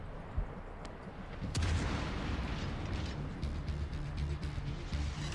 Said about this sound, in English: He's set to heat rounds, and look at that, a nice broadside cruiser to fire at.